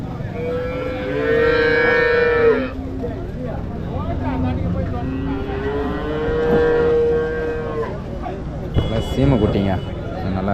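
Native-breed cows low repeatedly, long and fairly close, amid a busy outdoor cattle market crowd with people talking in the background.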